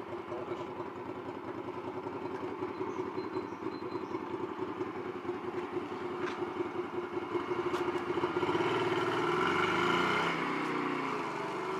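A Honda Shadow 125 VT motorcycle engine putters steadily at idle, then revs up and grows louder toward the end, fairly close.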